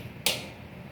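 A single crisp click from the on-off power switch of an MC 15 KVA spot welding machine, short and close, with a brief hissy tail fading into a quiet room.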